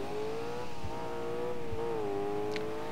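Engine of a car racing flat out down a highway in the video game Alarm für Cobra 11, a steady loud continuous drone with slight pitch wavering, alone without voices.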